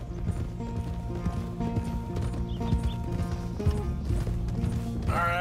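Horse hooves clip-clopping in Red Dead Redemption 2, a steady walking rhythm under a layered musical score with tack and gear rattling, close and moderately loud.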